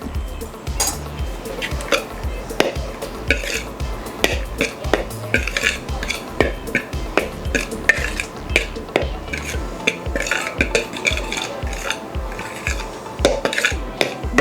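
Flour and salt stirred together in a bowl, a spoon scraping and clinking against the sides in a steady, busy rhythm, close and fairly loud, with no talking.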